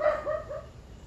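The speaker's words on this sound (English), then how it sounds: "Oh, there's the neighbor's dog." A neighbor's dog barks a few times in short yips, loud at first and fading, heard nearby indoors with no talking over it.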